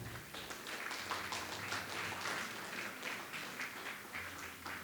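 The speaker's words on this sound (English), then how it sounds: "Loud round of applause for the top three." An audience at a youth quiz competition claps in a sustained round of applause, a dense patter of many hands at moderate, faint level.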